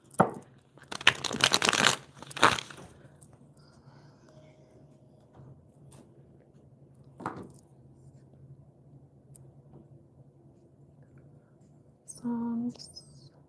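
A deck of cards riffled and shuffled up close in a few quick bursts, followed by a quiet stretch with faint background hum.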